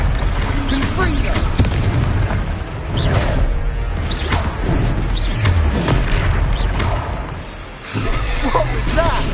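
Confringo blasting spell detonating during a Harry Potter video game duel, heavy booming blasts and whooshing crashes layered over a dense, loud battle mix with shouted voices throughout.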